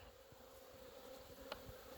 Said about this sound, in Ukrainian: бачимо, що бджоли гарно покривають всі 5 рамочок